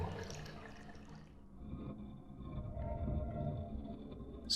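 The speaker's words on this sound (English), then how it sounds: "just flush." A toilet flushing in the video game Deadly Premonition, with a loud rushing swirl of water at first, then a lower gurgling drain that continues steadily to the end.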